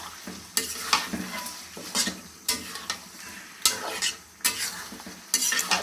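A potato frying in plenty of oil in a home kitchen, the sizzle swelling in regular bursts as it is stirred and scraped against the pan roughly every second, close and without talk.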